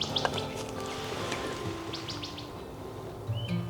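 A northern cardinal gives a few faint chirps and short whistled notes at a distance, against steady outdoor background noise at a research station in spring.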